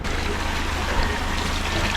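Water trickling and splashing steadily into a container as it is fetched and filled at a source near rice terraces, a close, continuous pour with no talk.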